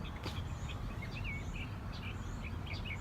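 Faint, high bird chirps and tweets scattered through a quiet outdoor background hiss, on a 30-degree Celsius day.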